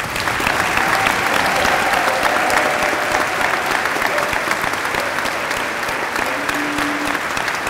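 A large crowd gives sustained, loud applause for speakers at a debate, a thick continuous roar of clapping that holds steady throughout with no talk above it.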